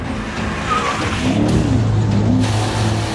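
A 2018 BMW M5 drifts on a track, with a loud, continuous engine roar and tire noise holding steady, some swells in revs, heard close with no speech.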